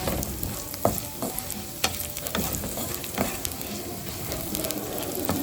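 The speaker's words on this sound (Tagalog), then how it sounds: "Pero kailangan halo ka ng halo para hindi siya masunog." Small pieces of food sizzle steadily in a hot frying pan while being stirred constantly, with a continuous crackling hiss broken by the sharp scrapes and taps of the utensil against the pan.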